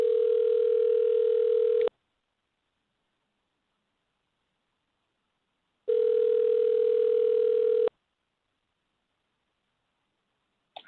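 A telephone line rings out unanswered during a pro wrestling show: two loud, steady two-second bursts of ringback tone about four seconds apart, separated by silence, with a brief click at the end and no voices.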